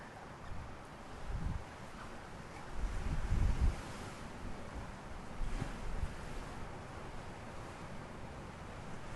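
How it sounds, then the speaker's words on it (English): Gusty wind buffets the microphone outdoors by the sea on a Bermuda cahow nesting island, a steady broadband roar with low thumping gusts swelling around the middle, no talking. "it's getting windier and windier out here"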